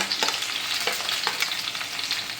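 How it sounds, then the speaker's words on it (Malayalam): Crushed garlic, shallots and curry leaves frying in hot oil in a pan, a dense, close crackling sizzle with brief spatters and stirring scrapes, loud and unbroken. "ഓരോന്ന് ഓരോന്നിട്ട് കൊടുത്ത് മുപ്പിക്കാം ആദ്യം വെളുത്തുള്ളി ഇടട്ടെ ചുവന്നുള്ളി"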